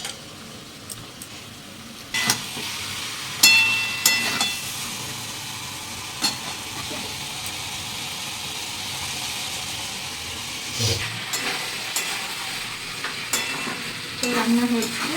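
Chicken with potatoes frying in a pan for a curry, with a steady sizzle and hiss under intermittent scrapes and clinks of stirring, close and moderately loud throughout.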